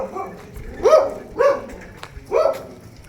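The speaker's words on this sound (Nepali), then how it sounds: "कति कुकुर छ कि यहाँ चाहिँ" Dogs in a village bark in three separate outbursts about half a second apart, fairly close and loud, with no talking.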